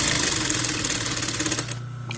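A sewing machine stitches a long seam across the bottom edge of rain gear for a scooter ride, a loud rapid mechanical chatter running continuously before slowing and stopping near the end.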